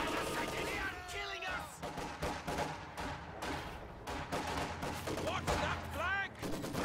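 Maxim machine gun fire rattles in a World War II strategy video game, with repeated bursts and scattered battle shots over a continuous mix of distant gunfire and explosions.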